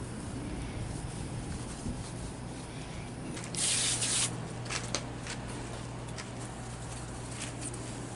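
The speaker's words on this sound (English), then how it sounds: "Now comes the brake cleaner." Brake cleaner sprayed from an aerosol can onto loose RV slide trim, one short hissing burst near the middle followed by a few light taps and rubbing, over a steady background hum.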